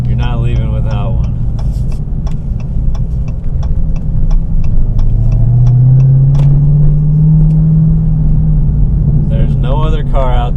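A 2019 Dodge Challenger Hellcat Redeye Widebody engine rumbles loudly, then its pitch climbs in a strong rev through the middle of the clip. Someone talks at the start and end.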